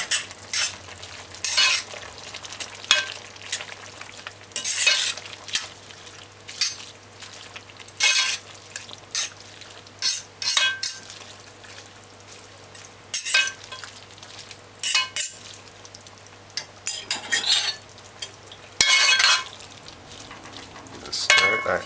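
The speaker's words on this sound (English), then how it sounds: "Now after 8 minutes, we're gonna stir this for the first time." A spoon stirs cabbage and saltfish around a frying pot, scraping and clinking in irregular bursts over a steady low sizzle, close and moderately loud with no talking.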